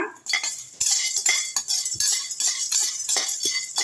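Dry roasting lentils and seeds for a manathakkali keerai idli podi in a pan without oil, with steady scraping and clinking of a spoon against the metal pan, close and continuous.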